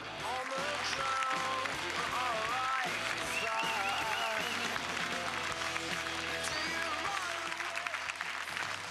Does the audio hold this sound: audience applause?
yes